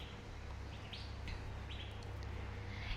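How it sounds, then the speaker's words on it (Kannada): Small birds chirp outdoors on a resort balcony, a few brief tweets spread through a soft, steady background hum with no voices. "ಬರೀ ಹಕ್ಕಿಗಳ ಚಿಲಿಪಿಲಿ ಅಷ್ಟೇ ಕೇಳಿಸ್ತಾ ಇದೆ,"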